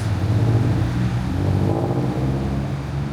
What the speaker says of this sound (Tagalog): Ganda ng boxer engine na tunog.